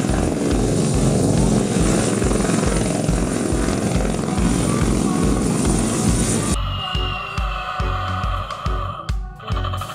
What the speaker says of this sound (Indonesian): lihat teman-teman, ini helikopter